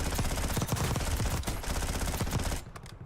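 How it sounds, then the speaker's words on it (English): Rapid bursts of PPSh submachine gun fire in Call of Duty: Warzone, loud and close, with dense rattling shots that cut off near the end into a brief lull. "This PPSH is not good at range."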